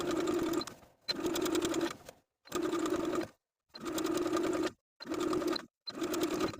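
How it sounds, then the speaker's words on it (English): A sewing machine edge-stitches a garment facing to its seam allowance around a neckline in six short bursts of steady whirring, each about a second long, split by brief silent pauses, close and clear with no talking. "I'm going to sew the facing to its seam allowance all the way around, edge stitching close to that seam line"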